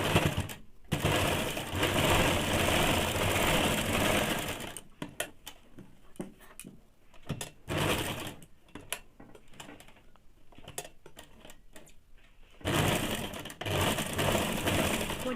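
A sewing machine stitches a saree-matching blouse, sounding in loud rapid mechanical bursts with short pauses and stop-start stitching through the middle before a final sustained run.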